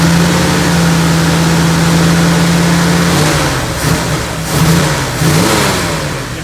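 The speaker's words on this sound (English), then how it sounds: "If I rev up the engine a little bit" A 1970 Ford Bronco engine holds a loud steady idle drone, then is revved in several short bursts that rise and fall, close to the listener with no talk over it.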